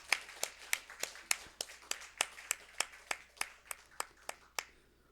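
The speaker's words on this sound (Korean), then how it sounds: "우리 박수로 축복을 하겠습니다." Members of a congregation clap together at a Sunday morning church service, a brief round of sharp, evenly spaced claps in a steady rhythm that tapers off after about five seconds, with no voices over it.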